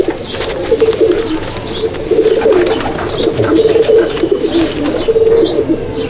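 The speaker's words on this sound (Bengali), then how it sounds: "দেখুন পায়রা" Pigeons coo repeatedly in low, throaty bursts, close by, with faint chirps and rustling in the background.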